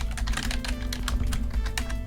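Rapid typing on a computer keyboard entering a cheat code for The Sims 4, a close, crisp run of uneven key clicks and taps with no speech.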